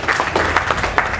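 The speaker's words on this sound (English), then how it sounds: "Give yourselves a round of applause" Audience applause at a community listening tour held by the NYS Black Legislative Task Force, a steady dense wash of clapping from a crowd filling the short moment at moderate loudness.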